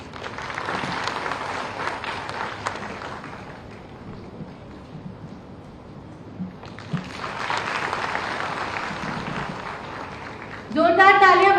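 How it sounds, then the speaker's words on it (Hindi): Applause at a Gorakhpur ceremony handing out Ayushman cards, crowd clapping in two waves with a quieter gap between, a voice speaking over it and a sudden loud burst near the end. "जोरदार तालियां बजती रहनी चाहिए"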